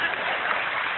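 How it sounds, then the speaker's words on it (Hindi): An audience at a live talk claps together, a dense, even patter of hands that fills the whole moment without a break and without voices over it. "इधर से तालियां कम बज रही हैं"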